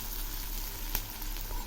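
Sliced onions and whole and split green-red chillies frying in oil: an even, continuous sizzle heard up close, broken by a single faint click from a spatula.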